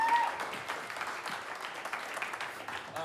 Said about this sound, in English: can we just hear one more round of applause